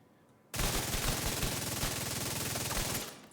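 Rapid automatic gunfire from the video game The Division, a loud sustained burst of shots lasting about three seconds, heard alone.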